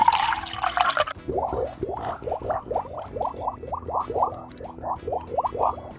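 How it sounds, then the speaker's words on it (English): Colored water is poured into oil in a jar, opening with a brief splashy pour followed by a rhythmic series of about a dozen bubbling glugs and drips, close and clear with no talk. "And now we pour the color water in the oil."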